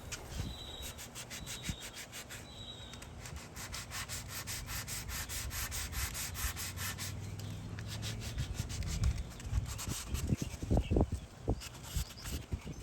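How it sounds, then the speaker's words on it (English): Sanding the old finish off a wooden tabletop, a steady abrasive rubbing that runs continuously and fairly close, swelling a little louder with some heavier knocks and scuffs near the end. "it took a lot of sanding to get this, just the top part off"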